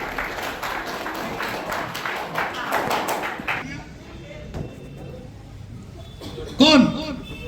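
An audience claps hands at a prize-giving during a parents' meeting at a coaching academy; dense, fairly loud applause runs for about three and a half seconds, then drops to a quiet room with a brief sharp sound near the end.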